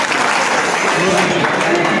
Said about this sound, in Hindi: सर एक पहला ताली बजाइए